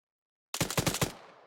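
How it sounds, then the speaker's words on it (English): A rapid burst of about five gunshots rings out during a military field training exercise, sharp and loud after silence, fading with a brief echo. "Oh, we're getting shot at."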